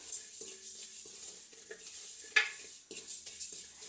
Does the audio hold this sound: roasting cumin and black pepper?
yes